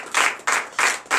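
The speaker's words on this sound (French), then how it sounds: "Je vous demande d'applaudir très très fort." A church congregation claps in four short, loud surges of applause, each rising and fading in quick succession.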